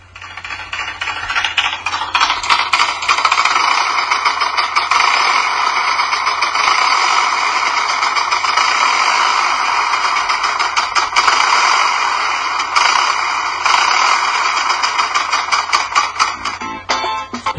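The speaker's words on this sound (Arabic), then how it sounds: "هعرض عليكم محرك موديل لمحرك بيشتغل مرة بالفلاي ويل ومرة من غير الفلاي ويل" A model diesel engine running with its flywheel fitted, giving a rapid, continuous mechanical clatter and rattle that holds steady for the whole stretch and cuts off at the end.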